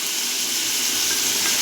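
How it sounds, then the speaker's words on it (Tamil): Elephant foot yam manchurian sizzles and fries steadily in a pan with soy sauce and tomato sauce, a continuous loud hiss with no break and no talk over it. "இப்போ கொஞ்சம் சிம்மில் வச்சு ஒரு நிமிஷம் வதக்கிக்கலாங்க."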